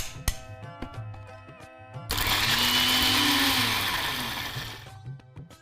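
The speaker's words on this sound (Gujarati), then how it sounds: "તો રુદ્ર, આપણે ચટણી માટેનું મિક્સર જે ઠંડુ કરવા મૂક્યું હતું એ ઠંડુ થઈ ગયું છે. હવે એને ક્રશ કરવાની છે." A mixer grinder whirs loudly for about three seconds, crushing a tomato garlic chutney with a little added water, its motor roar rising sharply and then tapering off, framed by quieter kitchen clatter before and after.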